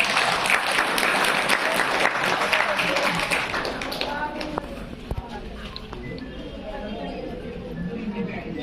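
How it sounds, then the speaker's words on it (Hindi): At a spiritual talk, an audience claps in a lively burst that fades over several seconds, with a voice speaking over the tail of the applause. "इनके लिए ताली बजाओ जिन पे असर नहीं है।"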